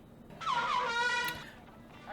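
A single loud blast of an air horn, a brassy tone lasting under a second, with a faint hum of background noise.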